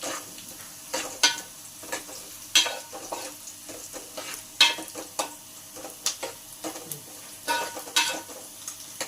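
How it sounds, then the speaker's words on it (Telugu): Onions fry in a pan for an ivy gourd masala curry, with a soft, faint sizzle broken by repeated sharp scrapes and clicks of a spoon stirring them at an uneven pace. "పచ్చివాసన రాకుండా వేయించుకుందాం"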